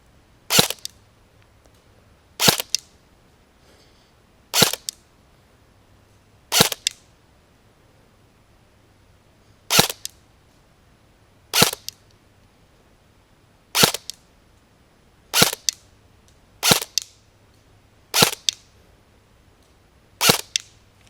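Force Core 109 airsoft replica firing about ten sharp single shots at a paper target, evenly spaced at roughly two-second intervals, each a crisp loud crack over a faint low hum with no talk.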